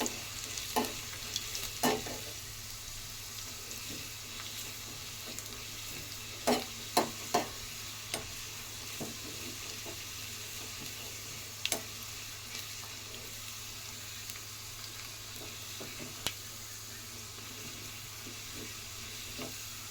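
Garlic frying with rice in a pan, a steady soft sizzle throughout with scattered sharp spatula clinks and scrapes as it is stirred, no talking.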